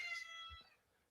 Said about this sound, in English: That's why we had to adopt this cat, man.